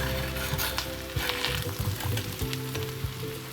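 Anchovy (nethili) peera fry sizzles loudly in a pan while being stirred, with a continuous frying hiss broken by repeated scraping and clinking stir strokes.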